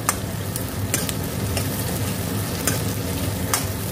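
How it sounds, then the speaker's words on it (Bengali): Garlic and grated ginger fry in hot oil for a fried rice dish, giving a steady close sizzle with intermittent scraping stir strokes from a spatula throughout. "এবার এটাকে নাড়বো, নেড়ে রসুন লাল হওয়া অবধি ভাজবো।"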